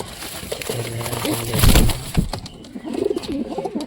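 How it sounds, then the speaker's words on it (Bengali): Pigeons coo near a nest box, with low rhythmic calls in the first half, a brief burst of wing flapping in the middle and more cooing afterwards, all set against background noise. "সব কবুতর নিচে দেখো সব কবুতর নিচে আছে"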